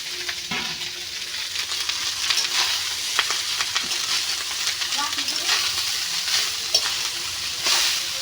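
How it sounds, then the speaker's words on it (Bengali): Rice lightly frying in a pan for biryani in a home kitchen, a steady close sizzle with scattered crackles and occasional stirring scrapes, with faint background voices at times. "ভাতটাকে হালকা ভেজে দিব"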